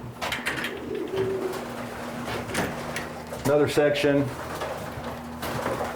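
Racing pigeons in a young bird team loft give soft, repeated coos and rumbling calls around the middle of the stretch, mixed with low rustling and background hum while people talk nearby.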